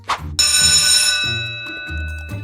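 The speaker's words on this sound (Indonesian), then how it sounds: "Lonceng sekolah berbunyi" A bell rings loudly, its bright tone sustained and slowly fading, with a low pulsing chime repeating underneath every half second or so.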